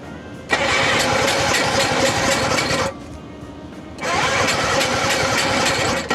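A Wankel rotary engine motorcycle cranks as it tries to start, with two long, loud bursts of starter churning split by a short quieter gap, close by and with no voices.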